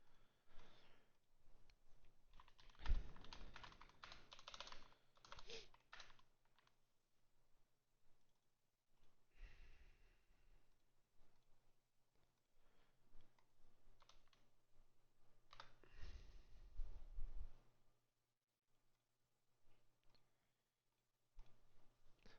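Quiet, close typing on a computer keyboard, irregular bursts of clicks separated by pauses, with no talking.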